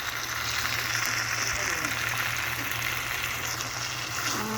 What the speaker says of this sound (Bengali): মাংসটা দিয়ে দিয়েছে কড়ার মধ্যে, আর কড়াই নাড়ছে